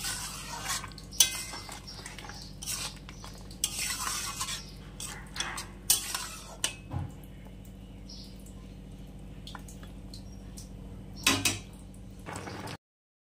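Fried bitter gourd, brinjal and lentil dumplings are stirred into a pot of shukto, with intermittent clinks and scrapes of a spoon against the pot, bursts of bubbling, and quieter pauses between strokes.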